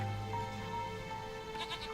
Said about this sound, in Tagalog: Kambing po, kuya! Kambing!